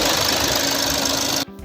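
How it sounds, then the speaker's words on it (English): A VW/Audi engine cooling fan runs nonstop because of a P0117 low circuit fault on the coolant temperature sensor. Its steady, close mechanical whir with a faint rhythmic chatter cuts off abruptly near the end. "Fan is running continuously."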